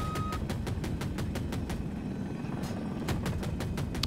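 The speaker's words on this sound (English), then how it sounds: "There's a helicopter, I don't know where he is" Enemy helicopter in Battlefield 2042, a steady rotor drone with sharp repeated clicking bursts layered over it, loud and continuous, with no talking.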